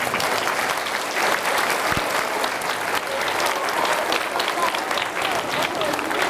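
An elementary school audience of pupils and teachers breaks into a loud round of applause, dense continuous clapping with some crowd noise mixed in.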